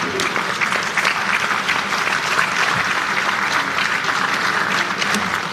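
Sustained applause from the audience at an annual accountants' conference in a large hall, dense, even clapping that stays loud and steady throughout with a faint murmur underneath.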